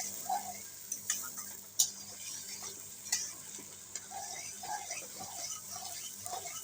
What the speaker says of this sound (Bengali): নাড়াচাড়া করবো যতক্ষণ না কিন্তু পেঁয়াজগুলো লাল লাল হচ্ছে, ততক্ষণ ভাজবো